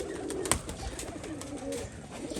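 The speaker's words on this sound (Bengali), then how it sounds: "আর দেখুন এদিকে কিন্তু ভর্তি পায়রা" Many pigeons gathered in one spot give off soft, low, repeated cooing from close by, with a sharp click partway through and a faint background hiss.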